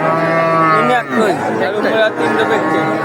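A cow lowing at a rural cattle market in Bangladesh, a long loud moo close by, with people chatting and a crowd murmuring around it.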